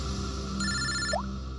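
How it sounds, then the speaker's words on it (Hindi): A telephone ringtone in a crime-drama scene plays a short electronic tonal burst of about half a second over a steady low background hum, with no talk. "पंकज का फोन था।"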